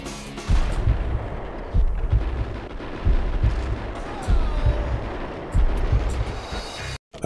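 Gunfire in the video game Max Payne, a sustained run of heavy, booming shots in repeated bursts about a second apart, loud and close, briefly cutting out near the end.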